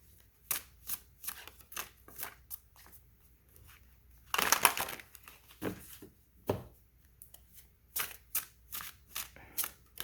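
Soft papery shuffling of a deck of oracle cards, a string of quick flicks with one longer riffling burst in the middle, close and quiet.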